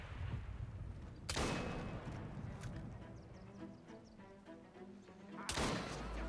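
Two sharp, loud explosion blasts from an Assassin's Creed video game, separated by several seconds of rumbling and clattering game sounds.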